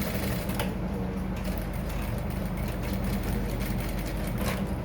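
A sewing machine stitching a single welt pocket, running steadily with a fast, even mechanical whirr and rapid needle ticking throughout, close and alone.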